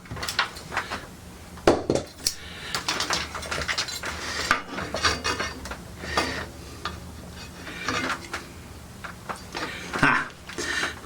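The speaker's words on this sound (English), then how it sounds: "with the caliper bracket now tight, I can now fit the caliper itself" Brake caliper being fitted onto a Norton Commando motorcycle: irregular metallic clinks, taps and scraping rubs of parts and tools being handled up close, with scattered louder knocks and quieter fiddling between.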